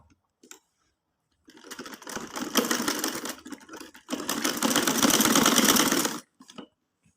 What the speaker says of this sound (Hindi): मुकम्मल घेरे तक हम इसको इसी तरह से सिलाई करेंगे।